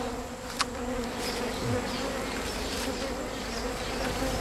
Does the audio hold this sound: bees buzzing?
yes